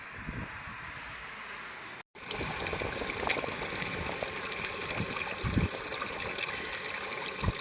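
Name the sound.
drilling fluid being drained from a well borehole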